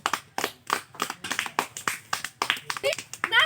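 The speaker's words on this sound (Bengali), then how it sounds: "সবাই হাতে তালি দাও" A family group claps hands in a cheerful home setting, with quick, uneven claps that overlap continuously with talking and laughter throughout.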